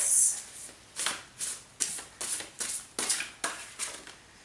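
Tarot cards riffle in a run of about eight crisp, evenly spaced bursts, close and moderately loud.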